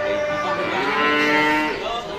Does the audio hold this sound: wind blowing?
no